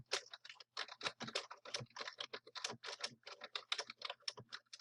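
Rapid, uneven clacking of keys on a computer keyboard as text is typed into a text box, a steady run of close, crisp key presses with no one speaking.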